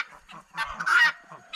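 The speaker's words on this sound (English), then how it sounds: "I like the sound of guinea." A guinea fowl kept with other guineas in a farmyard coop gives loud, harsh honking calls in a cluster of close bursts, with a short quieter call near the end.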